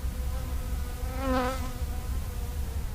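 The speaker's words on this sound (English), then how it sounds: "Bees were buzzing around." Bees buzz around bare grass on a warm, snowless day beside an iced-over lake, a steady insect drone with one closer pass that swells and fades midway.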